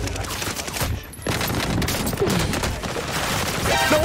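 Loud, dense automatic gunfire rattles almost nonstop in the Warzone video game, with a short lull before the bursts resume and stay heavy to the end.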